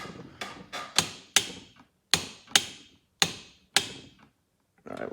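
Ratchet clicking while torquing down the cylinder head bolts on a golf cart engine during a rebuild: bursts of crisp metallic clicks in short uneven runs, close by, then a brief pause before fainter rustling.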